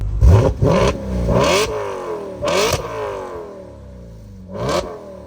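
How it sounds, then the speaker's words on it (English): An Audi RS5 engine revs hard in sport mode with the exhaust valves open, several loud bursts, the exhaust snarling up and falling back between blips, close by. "put it in sport, the exhaust valves open up and this thing screams"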